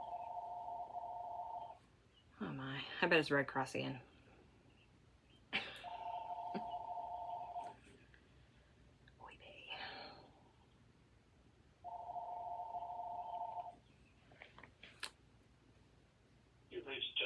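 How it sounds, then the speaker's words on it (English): A home telephone rings in three long, evenly spaced electronic bursts, with someone speaking briefly between the first and second rings. "Oh, my phone's ringing."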